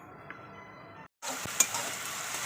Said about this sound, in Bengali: তো দেখতেই পাচ্ছেন তেলে আমি পেঁয়াজটা দিয়ে দিয়েছি। পেঁয়াজটা ভালো করে আমি লাল করে ভেজে নেবো।